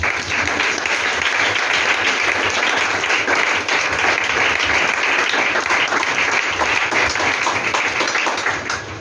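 A large church congregation bursts into loud, sustained applause, a dense, continuous roar of many hands clapping at full strength for the whole stretch.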